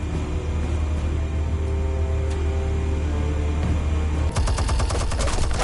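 Rapid bursts of gunfire from a Batman Telltale video game, loud and close, with a steady low rumble beneath and a denser crackling volley near the end.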